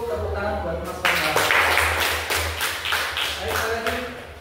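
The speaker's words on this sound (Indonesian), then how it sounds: "Oke, cukup tepuk tangan buat Mas Farhan." A classroom of sixth-grade students clapping for a classmate, a burst of many close, sharp handclaps breaking out after a second and continuing unevenly, with voices mixed in.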